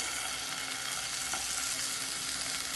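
Plantain pieces fry in butter in a non-stick pan, giving a dense, even sizzle that holds steady throughout, close by and moderately quiet, with no voices.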